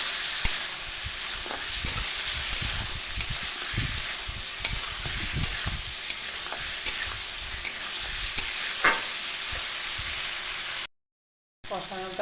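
Eggs frying and being stirred in a pan, a constant close hiss of sizzling oil broken by scraping spatula strokes, with a brief silent gap near the end.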